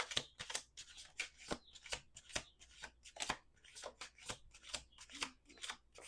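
A deck of cards being shuffled, giving a run of crisp riffling bursts in an irregular rhythm, close and clear with no talking.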